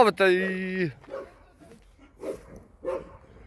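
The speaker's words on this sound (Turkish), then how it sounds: "Gençler burada bir köpek var." A dog gives a single loud, drawn-out bark up close, followed by quieter speech nearby.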